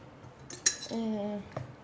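A sharp clink of metal on dishware in a home kitchen, followed by a ringing tone from a struck plate or pot and a final light clink, close by.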